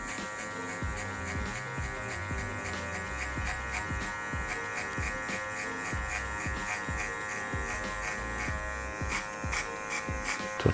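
Electric hair clippers fitted with a 2 guard, lever open, cutting hair during a drop fade, buzzing steadily and close with a sharp motor hum that pulses in short rhythmic passes through the whole stretch.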